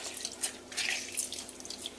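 Juice from two oranges drips and splashes into a pot of cranberry sauce, a soft, irregular trickle with small wet drops, close and fairly quiet, no voices.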